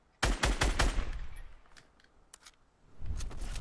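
Fortnite Battle Royale gunfire: a quick loud burst of several rapid shots, then scattered quieter shots and echoes, with another cluster of shots near the end.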